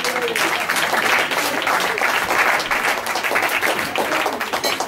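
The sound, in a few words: audience applause at hypnosis show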